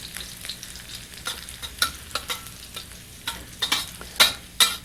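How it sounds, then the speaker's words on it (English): Green chili slices and spices sizzle in a little hot oil, a steady frying crackle broken by repeated close scraping stirs that grow sharper and louder toward the end. "This method of sautéing spices in a little bit of oil is also very effective in extracting their beautiful flavours."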